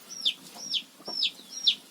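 A village hen clucks four times in a short, evenly spaced series, fairly close and alone against a quiet rural morning background.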